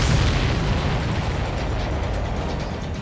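A missile explosion in the jet combat game Ace Combat 7 roars as a loud, dense, sustained rumbling blast that fills the whole clip and slowly eases off, with no talking.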